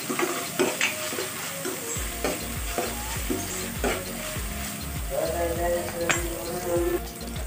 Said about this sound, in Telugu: ఫ్రెష్గా నూరుకున్నటువంటి అల్లం పేస్ట్ వేసుకుందాం. ఇది కూడా మంచిగా ఆయిల్లో పచ్చి వాసన పోయేంత వరకు మనము దీన్ని మంచిగా కూడా ఫ్రై